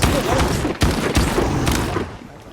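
Shotgun fire in the video game S.T.A.L.K.E.R. 2, with loud, close, booming blasts over a dense rumbling backdrop, then a couple of sharp reports, briefly spaced.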